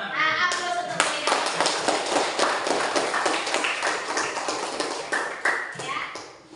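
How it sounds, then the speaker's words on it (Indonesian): A classroom group claps together for several seconds during a teaching practice lesson, a dense patter of hand claps that gradually thins out toward the end. "aplaus untuk beliau"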